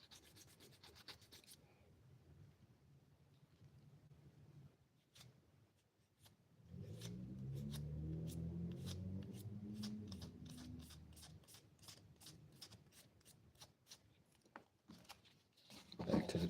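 Fine-grit sandpaper works over a ring in a steady rubbing scrape, faint at first and then fuller and louder in the middle stretch, with quick light ticks and taps that follow, all close by with no talk.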